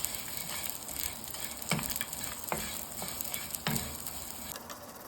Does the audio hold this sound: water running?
no